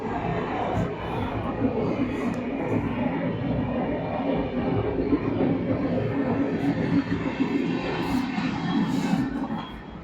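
A train rumbles past nearby, a steady dense roar of rolling wheels on rails with faint clatter, holding level for the whole stretch.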